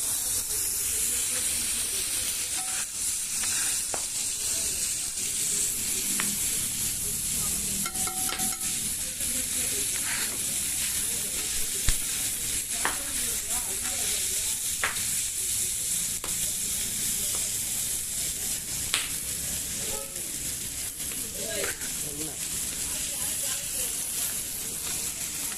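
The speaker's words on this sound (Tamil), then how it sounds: "அதை வந்து நல்லா வதக்கிட்டு கொஞ்சம் ஆயில் ஊற்றி உப்பு போட்டு வதக்கிட்டு நம்ம ஒரு தட்டில் எடுத்து வச்சுக்கலாம்" Chayote squash fries in oil in a pan, a continuous bright hiss and sizzle with occasional stirring clicks, while a person talks throughout.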